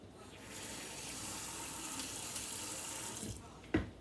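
Tap water running into a meatloaf mixture of meat, seasonings and Italian-style breadcrumbs, a steady faint splashing stream that rises and then stops, with a short clunk near the end.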